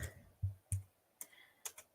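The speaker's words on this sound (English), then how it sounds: "I'm typing like this because I'm typing with one hand" Slow one-handed typing on a computer keyboard, with about six separate close key clicks at uneven intervals and quiet gaps between them.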